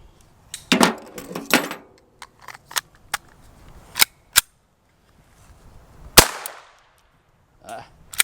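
.22 pistols, including an ISSC M22, GSG Firefly and Beretta 92 with a conversion, fire Norma target ammunition outdoors with sharp, separate cracks at irregular intervals and some handling clicks between them.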